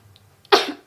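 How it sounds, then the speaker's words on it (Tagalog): A child with a worsening cough lets out one sudden, harsh, throaty cough that trails off over half a second, close and loud after near silence. "mukhang hindi na maganda yung ubo mo ah"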